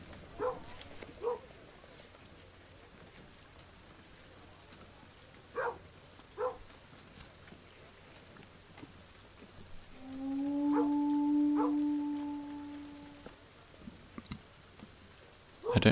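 A steady low howl from Kingdom Two Crowns, Norse Lands, holds for about three seconds midway through, faint and droning over quiet background with a few scattered soft thumps.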